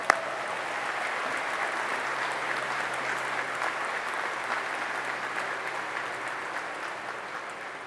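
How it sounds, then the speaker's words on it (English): A crowd applauds at the Patriot Plaza dedication ceremony in Sarasota, a steady moderately distant patter of many hands that begins with one sharp clap and carries on evenly without talk. "Let's give it a big round of applause."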